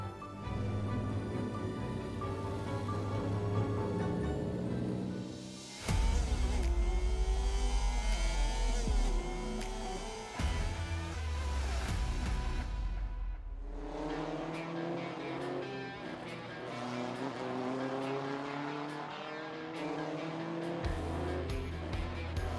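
Race cars at a hot, sunny auto racing event rev and roar nearby, with a loud surge of engine noise and tire squeal mid-way before the engines ease into a lower drone.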